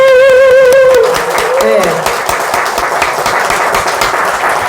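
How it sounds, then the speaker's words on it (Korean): A congregation at a Korean Won Buddhist temple anniversary service breaks into steady, dense applause that fills the hall after a brief spoken word, continuing evenly to the end. "박수로 다시 한번."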